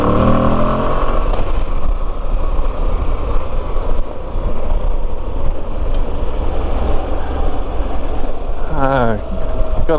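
Moto Guzzi V85 TT V-twin motorcycle with boost accelerating on a ride, a loud steady engine drone with rushing wind, engine note climbing near the start and again near the end.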